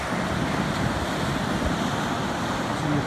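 Surf waves wash steadily onto a beach at Porthor, a constant loud rushing roar with wind buffeting the microphone and no voices.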